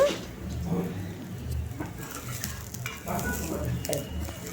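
A dosa sizzles on a hot pan with a soft, steady frying hiss, close by and moderately quiet, interrupted now and then by scraping and handling noises.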